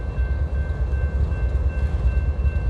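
A train rumbles past on the rails with a steady low rolling roar and faint rhythmic pulsing, moderately loud and continuous, with a thin steady tone above it and no talking.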